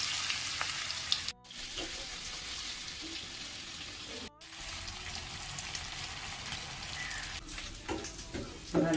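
Marinated prawns for a chemmeen roast fry in a pan with a steady hiss and crackle, broken by two brief dropouts and a few clattering stirs near the end, no voices.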